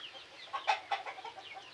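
Hens on a poultry farm, similar to native village chickens, give a few faint, soft clucks in a short quiet stretch, heard from a little distance.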